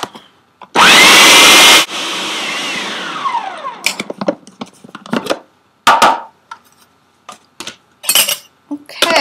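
A blender whizzes pizza sauce ingredients with garlic, a loud, close burst of motor roar that cuts off and winds down in a falling whine, followed by scattered clinks and scrapes of the jar and utensils.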